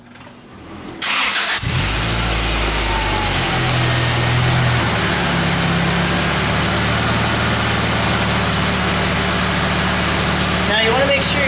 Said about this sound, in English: Clear all the tools off and we're going to start the vehicle.